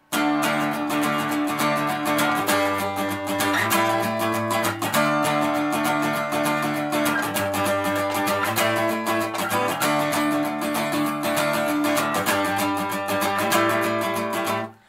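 Steady strummed guitar chords in Irish reel style ring out, with each new chord struck noticeably louder than the strokes that follow; no voices.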